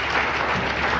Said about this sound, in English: we can clap, right, children?